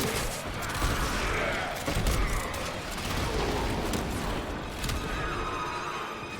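Gunfire aimed at the player in Warframe fills the scene as dense, continuous shooting and booming effects, with bursts piling over one another at a steady loud level.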